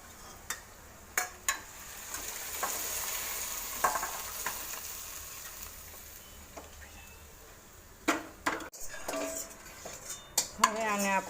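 Boiled vegetables being added to a tempering for Rajkot-style tava chapdi and stirred in the pan, with a steady sizzle and scattered clinks and scrapes of the spoon against the pan, loudest near the end.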